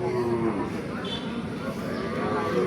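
Local desi cattle at a village cattle market held before Eid, a low moo rising amid a busy outdoor murmur while someone talks close by.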